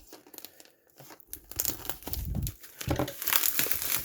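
Paper and plastic packaging crinkle and tear at close range as a mailed package holding a trading card is opened, with the rustling growing louder and busier toward the end.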